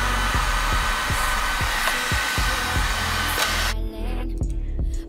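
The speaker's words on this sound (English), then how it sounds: "I fully blow dry it with the blow dryer I got for Christmas" A blow dryer roars loud and steady close by while drying curly hair, with faint rhythmic thumps of handling beneath, then the airflow shifts and eases near the end; no talking.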